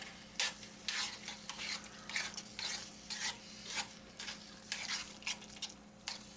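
Canned, drained mushrooms being stirred into a thickened homemade lasagna sauce in a cast iron pan, with repeated soft scraping strokes over a faint steady simmer, quiet and close.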